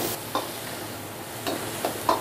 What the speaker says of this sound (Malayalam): ഇളക്കി നോക്കി ബാലൻസ് ഉണ്ടോ നോക്കട്ടെ